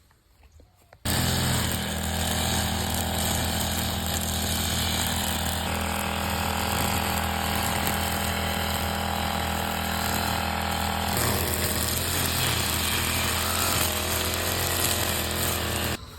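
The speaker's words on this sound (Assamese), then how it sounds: "তো এইখিনি মাটি এতিয়া মই কাটিম ব্ৰাছ কাটাৰেদি" A brush cutter cutting soil in a vegetable garden starts up after a second of quiet, then runs as a loud, continuous high-pitched engine whine with slight shifts in load.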